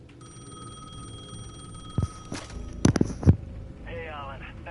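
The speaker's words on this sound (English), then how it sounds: "The payphone at the edge of the plaza was ringing again." A payphone rings in the video game Alan Wake 2 with a steady electronic tone for about two seconds. Several dull thuds and clunks follow, then a faint warbling tone.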